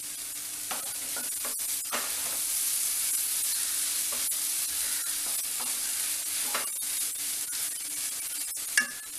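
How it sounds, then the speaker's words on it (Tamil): Cauliflower and egg being stirred and fried in a pan over a low flame for gobi egg rice: a steady sizzling hiss with occasional scraping of the spoon against the pan, close and continuous with no talking. "லோ ஃப்ளேம்லேயே வச்சு கிண்டுங்க"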